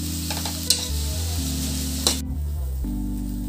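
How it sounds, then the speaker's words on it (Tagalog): Chicken with carrots, pechay and cabbage is stirred in a pan, giving a steady sizzle with a couple of sharp utensil scrapes against the metal over background tonal music. "ihalo na natin to para mag-incorporate yung lasa ng gulay at saka lasa ng chicken"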